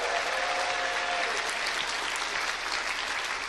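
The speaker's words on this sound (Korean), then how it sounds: "그래도 그분한테 감사의 박수를 한번 드립시다" An audience at a Korean church youth ministry gathering breaks into a sustained, dense round of applause, many hands clapping together loudly with no voices over it.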